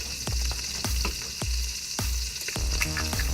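Eggs sizzling loudly in a hot pan on slices of buttered bread for toad in a hole, a constant close frying hiss broken by several sharp clacks and scrapes of a utensil against the pan.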